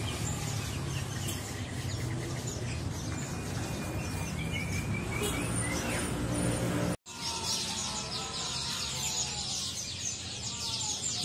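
Birds chirp and tweet at a bird market in Palmerah, a busy, layered chorus of calls heard steadily over a low murmur of market bustle and faint voices, with a brief break partway through.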